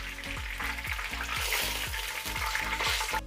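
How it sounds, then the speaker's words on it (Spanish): Chicken pieces fry in hot oil until golden, for a chicken and mango curry, giving a steady, close, continuous sizzle that carries on without any talking. "Segunda tanda de pollo doradito, sacamos y reservamos."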